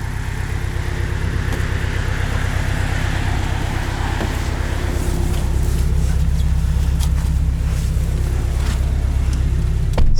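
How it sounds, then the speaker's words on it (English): 2019 Porsche 718 Boxster S flat-four engine on the road, a steady, throbbing engine drone heard close from the cabin, holding a continuous pulse throughout. "Flat 4 sounds really good at idle and sounds even better when you're on it."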